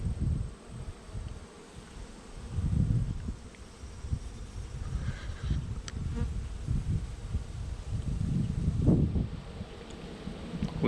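Honeybees swarm in a dense, continuous buzz from an opened hive during a Pennsylvania state bee inspection, close to the listener and swelling in waves, with light wind and rustling underneath.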